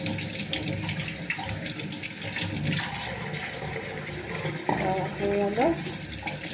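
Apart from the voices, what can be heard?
rinsing onions in a bowl under running tap water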